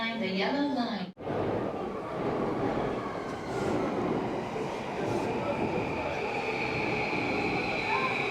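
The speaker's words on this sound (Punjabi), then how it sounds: "ਇਹ ਟ੍ਰੇਨ ਪੂਰੇ ਸ਼ਹਿਰ 'ਚ ਹੀ ਘੁੰਮਦੀ ਆ" A train rumbles past steadily at night in Tokyo with rolling wheel noise and a faint high squeal, after a brief burst of talk at the start.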